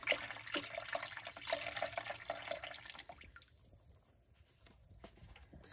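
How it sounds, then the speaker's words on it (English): A spoon stirs rice pudding ingredients in a slow cooker, giving a wet, sloshing churn for about three seconds. Quieter scraping and soft clinks follow, all fairly close and with no talking. "So give it a good stir."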